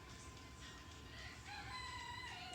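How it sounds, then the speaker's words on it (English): A rooster crows faintly in the distance, one drawn-out call heard from indoors in a bathroom, over a steady hiss of background noise. "you can hear the rooster in the bathroom."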